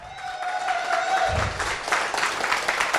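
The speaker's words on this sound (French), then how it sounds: "À la technique, on les applaudit bien fort." Spectators at a comedy show applauding the technical crew, a steady wash of clapping building after a faint tone and continuing strongly to the end, with some crowd noise mixed in.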